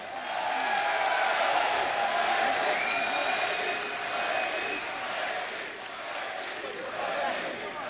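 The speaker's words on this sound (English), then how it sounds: "Give that man a round of applause, guys." Arena crowd applause at a Counter-Strike major playoff match on Mirage, a broad steady roar of clapping and cheering that swells and holds throughout, with faint voices mixed in.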